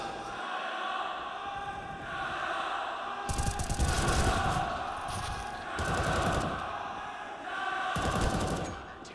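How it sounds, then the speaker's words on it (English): A crowd cheers at the ESL Challenger Melbourne 2023 esports event during Bad News Eagles vs. Rare Atom on Mirage. It rises in three loud, roaring swells that surge and fade over steady arena noise. "Crowd really trying to throw their support behind rigoN now."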